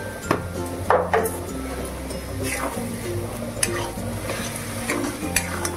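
Masala with green chili paste is stirred and sautéed in a pan for ghugni, with repeated scraping and clinking of a spoon against metal over a low sizzle, the strokes coming in an uneven rhythm close by.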